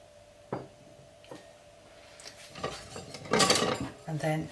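A utensil stirs lentils in a metal cooking pot for dhal, with a few sharp clinks and scrapes early on, then a busier burst of knocking and scraping toward the end, close and fairly loud.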